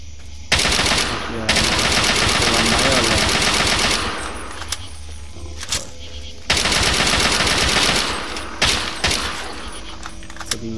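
Gunfire in the video game Fallout 3, long loud bursts of rapid automatic fire with single sharp shots scattered between, continuing almost throughout.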